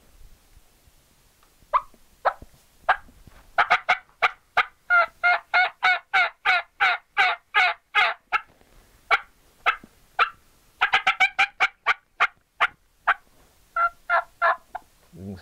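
A shipwreck-cut turkey mouth call imitates a wild turkey with a long, loud, close run of sharp yelps and rapid cackling cuts in quick bursts, brief pauses between runs, and no talking.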